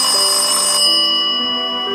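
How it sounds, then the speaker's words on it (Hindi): An electronic phone ringtone chimes loudly and close by, a bright repeating melody with nothing else around it. "फोन बज उठा।"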